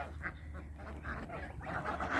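Geese honk and cackle repeatedly in a noisy outdoor setting, several birds calling close by over a steady low rumble.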